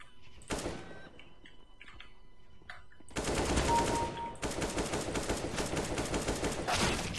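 Rapid bursts of Counter-Strike gunfire, sustained automatic shots in loud clusters after a quieter opening with a few scattered clicks.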